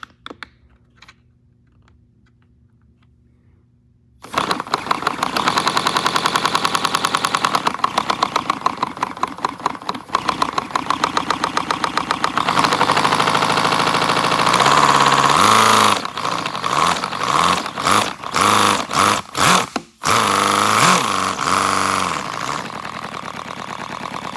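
A tiny 70cc boxer four model engine with dual exhaust starts up after a quiet stretch and runs loud and steady, its buzzing note rising and dipping with throttle blips toward the end.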